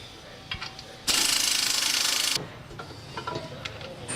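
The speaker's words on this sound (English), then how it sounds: "We're using a transmission jack here to release the spring pressure so we can take out the bolt and lower the control arm down." A transmission jack is ratcheted to release spring pressure on a car's suspension control arm. It gives a loud, continuous mechanical ratcheting burst of about a second and a half, with scattered clicks and clanks before and after.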